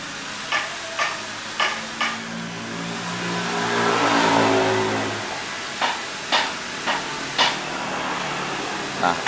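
Honda Beat FI scooter engine revving as the throttle is pulled, one smooth rise and fall in pitch in the middle, framed by sharp clicking taps before and after, close and moderately loud with a high whine.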